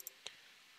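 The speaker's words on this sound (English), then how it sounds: "I'll click OK." Two quiet, sharp computer mouse clicks a fraction of a second apart, close and isolated against near silence.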